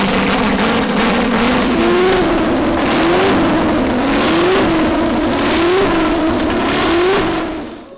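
A Ford GT40 MKII engine runs loud and steady on an engine test stand, revving up and down repeatedly throughout, close by with no talk.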